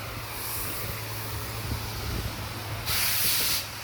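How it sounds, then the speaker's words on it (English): Water from an outdoor faucet sprays through a pressure washer that is switched off, wetting down a screened-in porch; a steady close hiss swells louder in short bursts. "the actual exterior water faucet running through the pressure washer."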